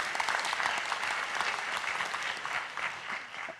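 Sustained audience applause fills a lecture hall during a talk in Prague, a dense, steady wash of many hands clapping at even loudness with no voices standing out.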